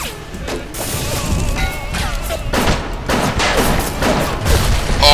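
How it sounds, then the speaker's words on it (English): Grenade blasts in the BioShock video game, a loud continuous barrage of explosive crashes and thuds with debris and chaotic combat noise filling the whole stretch. "I must compliment that splicer on being able to lob a grenade directly in my face twice in a row."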